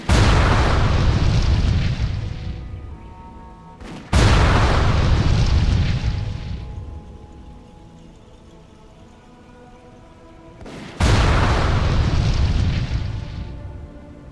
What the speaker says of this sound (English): Just to be safe, Kieran planted some explosive barrels for me to shoot.